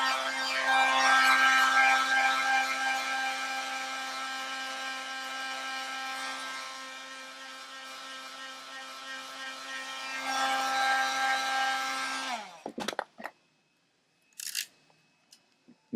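A quad trimmer trims the edge of SpeedTape edge banding with a steady, loud, whirring drone for about twelve seconds, then stops abruptly, followed by a few sharp clicks and a brief scraping sound in near silence.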